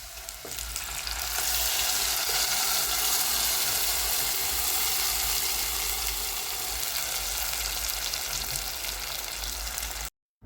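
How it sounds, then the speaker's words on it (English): White onions fry in oil and butter and are stirred now and then, giving a loud, steady, hissing sizzle that holds for about ten seconds before cutting off abruptly. "So I will keep turning my onion time to time till it's well cooked."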